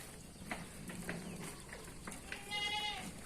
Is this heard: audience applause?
no